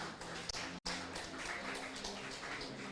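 Applause from an audience greeting media guests at a campus newspaper relaunch in Ghana, a steady wash of hand claps with one sudden dropout midway, moderately close and without talk.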